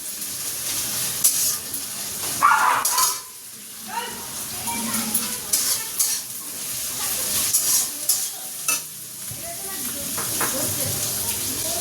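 Ginger, garlic and green chilli paste frying in a pan for chicken dakbunglo, with a close sizzle and steady stirring scrapes and clatter, and a voice talking over the cooking.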